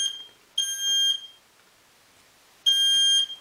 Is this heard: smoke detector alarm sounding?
yes